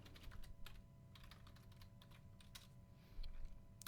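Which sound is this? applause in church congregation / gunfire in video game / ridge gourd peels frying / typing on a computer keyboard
typing on a computer keyboard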